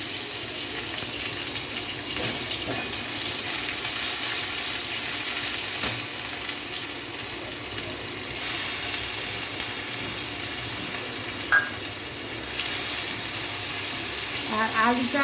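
Cumin and spices fry in a pan for a Bengali potato and taro-stolon dish, giving a loud continuous sizzle with occasional scraping stir strokes close by.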